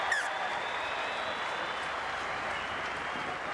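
A stadium crowd at a rugby league match between Wests Tigers and Brisbane Broncos applauds steadily, a dense, loud wash of clapping held for several seconds.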